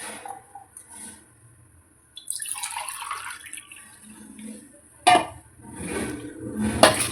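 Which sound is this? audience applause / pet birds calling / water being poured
water being poured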